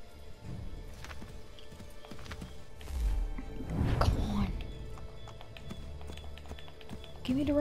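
Hooves gallop and clip-clop in the Assassin's Creed III video game, swelling to a louder burst midway. Voices talk over the hoofbeats throughout.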